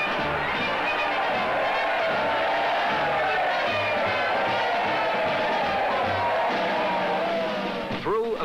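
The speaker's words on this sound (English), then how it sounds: "They sailed returning troop ships, their decks alive with cheering men" Men cheering on the decks of returning troop ships, a dense continuous roar of crowd voices and shouts that stays loud and unbroken throughout.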